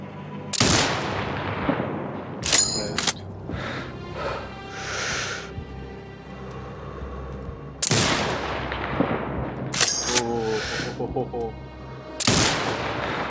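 Sniper rifle shots in the video game Sniper Ghost Warrior Contracts 2, set in a desert: several loud, sharp reports spaced seconds apart, each with a rolling echo tail, alongside game sound effects and a voice.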